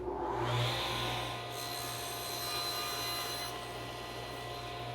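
A saw cuts through wood stock held on a sled with a steady, close grinding whir over a low motor hum, lasting the full five seconds with little change in loudness and no talking.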